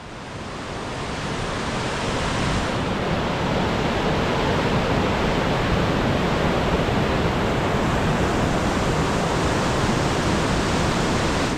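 The Selway River flows at Race Creek Trailhead, giving a steady loud broadband rush of water that swells during the first two seconds and then holds constant, with no voices.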